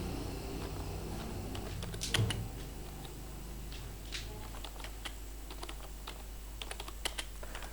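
Someone types on a computer keyboard, steady quiet clicking keystrokes in irregular bursts with a few louder taps, over a low constant hum and no speech.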